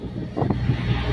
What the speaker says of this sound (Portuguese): O vento tá cortando.